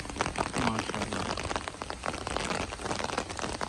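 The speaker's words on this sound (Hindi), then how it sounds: "बारिश कम हो गई है और बारिश हल्की हल्की लगी हुई है अभी भी" Light rain falling after a heavier shower, a steady dense patter of drops on surfaces, fairly quiet and continuous throughout, near a pigeon loft.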